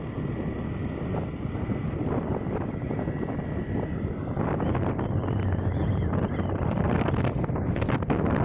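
Strong gusting wind on the mountain road through Cangar near Batu, Malang, roaring steadily and buffeting the microphone throughout, loud and continuous with no clear voices.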